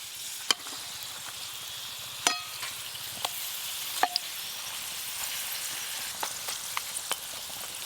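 Stuffed egg omelettes made with soybean frying in oil, a steady close sizzle broken by scattered sharp pops and clicks of a spatula against the pan, with no talking.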